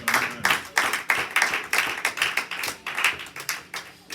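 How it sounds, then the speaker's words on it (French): A congregation claps rhythmically in church, a steady run of sharp, evenly spaced hand claps at moderate loudness with a faint undertone of voices acclaiming. "On acclame très fort le Seigneur pour elles."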